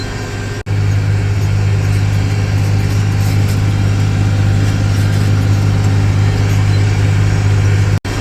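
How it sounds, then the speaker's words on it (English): A big, heavy 2590 tractor pulling an old Morris CP-743 cultivator through a field at a steady low speed, its engine a loud, constant drone with a deep unchanging hum from start to finish. "this 2590 is a big, heavy tractor"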